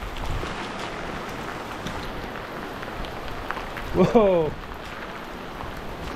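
Heavy rain pours steadily down outdoors as a storm sets in, a dense continuous hiss throughout, and a man briefly exclaims partway through.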